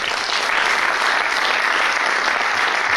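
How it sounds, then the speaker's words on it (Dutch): Audience applause for a VVD party list leader at a local candidates' debate, dense and loud continuous clapping from a crowd that holds steady throughout. "Mag ik een applaus voor Wim de Schrijver?"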